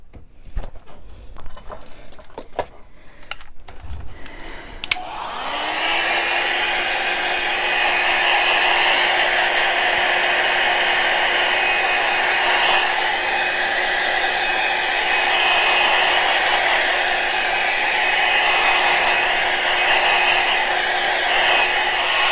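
A hair dryer blowing on wet paint starts after a few seconds of small knocks and handling noises, then runs as a loud, steady whir with a constant hum that does not change.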